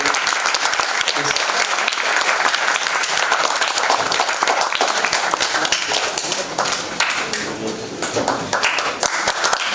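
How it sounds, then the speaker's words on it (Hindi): Loud, sustained audience applause at a Raja Master drama company theatre festival fills the whole stretch, a dense and even wash of many hands clapping with no break. "मैं चाहूंगा एक बार जोरदार ताली से आप लोग"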